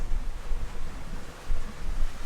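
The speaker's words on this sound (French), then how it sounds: "le vent, il est juste grandiose, 16, 18 nœuds de vent" Strong 16 to 18 knot wind at sea roars and gusts across an open, exposed space, with a rough, surging rumble that swells and dips; no voices.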